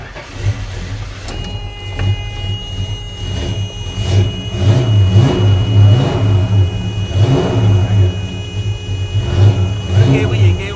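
The engine of a 1957 Ford car runs loud and close, settling into a smooth idle broken by several rising revs. Someone talks over it.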